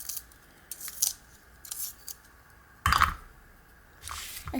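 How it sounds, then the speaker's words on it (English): A yellow colored pencil is sharpened in several short, scratchy grinding bursts separated by quiet gaps, close and fairly crisp, with one louder burst near the middle. "You're going to sharpen your yellow pencil if it needs it."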